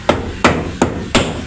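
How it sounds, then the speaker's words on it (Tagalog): A hammer strikes four times at a steady, slightly uneven pace, each blow a close, sharp crack with a short ring, and no voices in between. "So huwag mo na hawakan, paluin mo ng martilyo."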